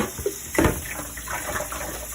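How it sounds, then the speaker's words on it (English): Cold tap water runs into a kitchen sink while vegetables are rinsed, a soft, steady splashing stream with a brief louder gush near the start, heard alone. "bring it in the sink. I'm gonna be rinsing my vegetable with cold water"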